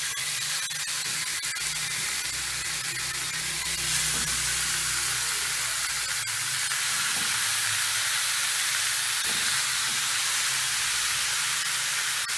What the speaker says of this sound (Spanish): aquí vamos a sellar el pollo